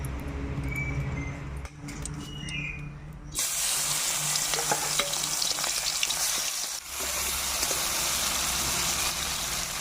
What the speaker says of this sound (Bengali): কড়াইতে তেল দিয়ে নিলাম, মাছগুলো ভেজে নিব